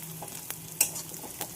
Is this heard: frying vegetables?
yes